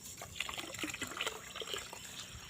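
Water poured into a cooking pot to make rice, a quiet close trickle and splash with light bubbling and gurgling.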